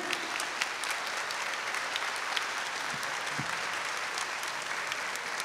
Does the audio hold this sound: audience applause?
yes